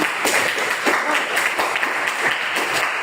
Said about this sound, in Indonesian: Tepuk tangan untuk Yuni